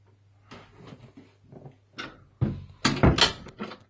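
A repaired interior door swings shut in a home, a series of soft shuffles and bumps building to a louder knock and latch clatter near the end, close by.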